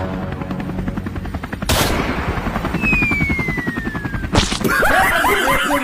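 Cartoon gunfire aimed at a helicopter: a steady rattle of rapid shots sits over a continuous rotor-like drone. Sharp swooshes break in near the middle and again near the end, with busy chattering sound effects toward the close.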